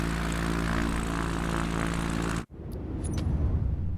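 Propeller airplane engine in the flight simulator game Microsoft Flight Simulator 2024, a loud steady drone that cuts off abruptly partway through, followed by a rougher, gustier rumble.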